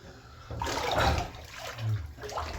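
Hot water gushes and splashes into a bathtub nearby, swelling and easing in a rushing flow with no talking.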